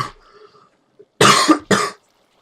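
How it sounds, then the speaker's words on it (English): A person coughs twice in quick succession, sharp and close to the microphone, after a brief faint murmur and a short silence. "There's another cough."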